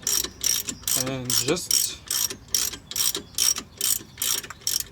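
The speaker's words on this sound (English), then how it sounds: "the ratchet is enough to get the nut all the way out" A hand ratchet loosens the nut on a front strut bolt with steady, rapid clicking bursts in a regular back-and-forth rhythm, close up, with a brief spoken phrase near the start.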